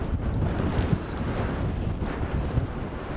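Strong blizzard wind roars steadily around a van, with constant broadband rushing and low gusty buffeting on the microphone, loud and unbroken throughout with no voices.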